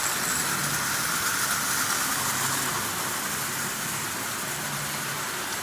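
A Marx prewar toy train motor running on track after a loose drive wheel was pressed back on: a steady close whirring hum, even and continuous with a slight fade toward the end.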